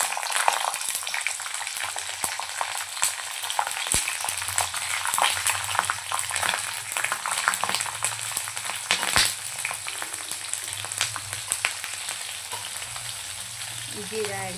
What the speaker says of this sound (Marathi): मोहरी झाली की यामध्ये मी आता हिरव्या मिरच्या ॲड केलेल्या.